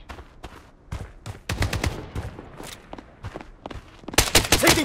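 Rapid gunfire from dual VSS rifles in the shooter video game Blood Strike, loud close bursts of sharp cracks in irregular clusters with footsteps between them, building to a dense volley at the end.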